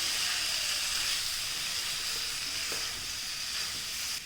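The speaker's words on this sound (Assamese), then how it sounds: "লৰাই মই 2 মিনিটমান ভাজি ল'ম" Fermented bamboo shoots fry in hot oil while being stirred, a steady close sizzle and hiss with faint scraping, continuous and even, with no talking.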